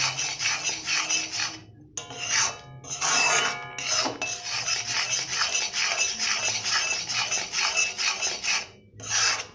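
A spoon stirs and mashes boiled lentils in a pot for mango dal tarka, making loud, close, rhythmic scraping strokes with brief pauses between them and no voices.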